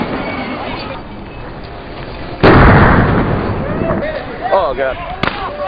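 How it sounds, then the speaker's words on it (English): A concussion grenade goes off at a crowd, one loud sharp bang that washes into a roaring noisy tail, followed by shouting and voices in the crowd. "This is a concussion grenade. This is designed to snap and go bang."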